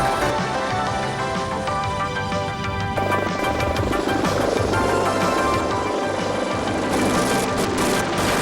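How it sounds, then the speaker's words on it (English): A firefighting helicopter used for rescues, moving equipment and carrying water: a loud, steady rotor thump and engine roar that runs unbroken from start to end. "Another important piece of equipment used to fight fires is the helicopter."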